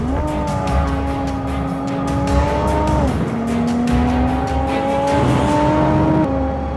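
Car driving at speed, engine droning loudly with pitch climbing through gears and dropping at shifts, tires hissing underneath in a sustained close-up roar.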